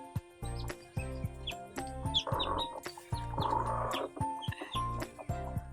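Chickens cluck in short repeated bursts close by, with brief louder squawks mixed in and steady farmyard chatter around them.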